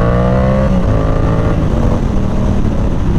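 A Yamaha R7 sport motorcycle engine revs loud and close, its steady droning note rising and falling in pitch through a few throttle blips, continuous with no speech.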